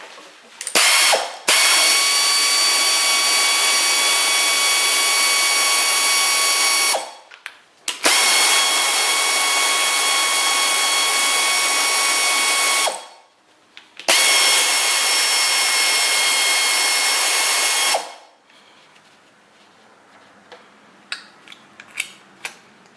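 A wrench loosens bolts on a 1962 Studebaker 289 V8 engine during disassembly. Three long, loud, close bursts of rapid ratcheting each run several seconds, then give way to quieter clicks and metal taps.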